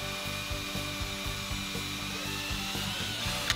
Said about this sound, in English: Let's take and drill a few holes through this sticker.